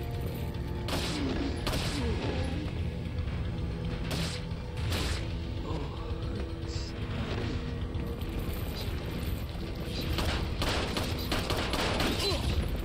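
Resident Evil 4 combat with grenades going off: several sharp bursts scattered over a constant gritty, mechanical game din, some clustered together, all fairly loud and with no voices.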